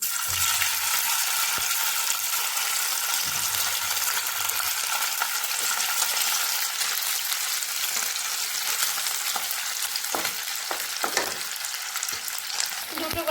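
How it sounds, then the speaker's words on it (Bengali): Chital fish pieces fry in hot oil in a wok, a steady dense sizzle running throughout with a few sharper crackles and pops near the end, close and loud with no voices. "তেল গরম হয়ে গেলে আমি এর মধ্যে কেটে রাখা মৈঠাগুলোকে ছেড়ে ভেজে নিচ্ছি"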